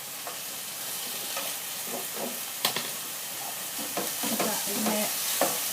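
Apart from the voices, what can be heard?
lamb mince browning in a pan with garlic and cinnamon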